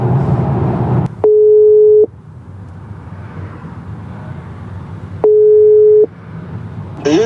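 A phone rings, two steady electronic ring tones spaced a few seconds apart over quiet road and car background noise, with no talking.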